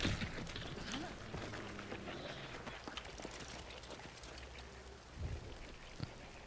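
Steady rain falls in a video game, a dense continuous patter of drops with a low rumble beneath, fairly even in level throughout with a brief thump near the end.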